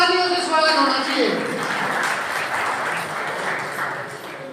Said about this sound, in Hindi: भाई जोरदार तालियों से स्वागत होना चाहिए